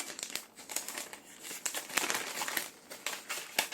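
Zip-lock bag holding a desiccant pack being handled, giving quiet, close crinkles of plastic in irregular bursts with brief pauses and no talk.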